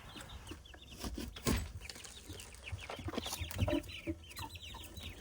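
Growing chicks clucking and peeping in a brooder, a busy, fairly close chorus of overlapping calls with occasional louder clucks and faint wing flaps.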